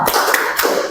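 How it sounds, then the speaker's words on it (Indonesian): A group performs the rhythmic "tepuk semangat" clapping chant in a classroom, giving a quick burst of close, sharp claps and taps in a short, energetic pattern. "1, 2, 3, tepuk semangat."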